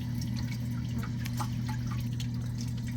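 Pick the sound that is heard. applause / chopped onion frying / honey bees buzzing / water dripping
water dripping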